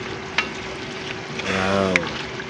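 Chicken liver and gizzard with added black pepper fry in a pan, giving a steady hiss with a few sharp clicks and a short louder stir-like swell near the middle. No one speaks.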